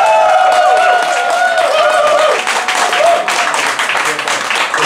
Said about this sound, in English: Please put your hands together and get real loud if you think the winner of this fight is Max